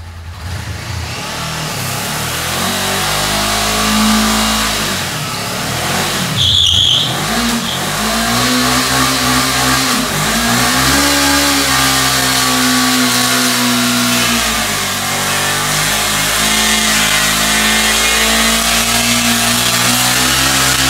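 A Chevy Malibu doing a burnout in a garage, its engine revving hard and holding a loud, sustained roar near the listener for about twenty seconds, with a brief dip in pitch partway through and no talk.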